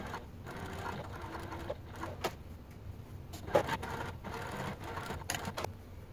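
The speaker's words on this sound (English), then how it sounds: "I'm gonna go ahead and top stitch it at 1/8 of an inch seam allowance." A sewing machine top stitching a seam at a 1/8 inch allowance with a long stitch length runs in short stop-start bursts, close and moderately quiet, with no talking.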